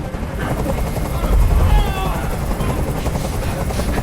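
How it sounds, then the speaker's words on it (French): A helicopter overhead gives a loud, continuous low rotor thump and engine drone that swells around the middle of the stretch, with a steady broadband wash throughout and some faint background voices mixed in. "Fais dégager cet hélicoptère, maintenant!"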